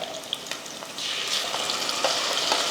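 Onions sauté softly in a pan for idli sambar, a close, moderate sizzle that swells partway through, with a few light stirring scrapes.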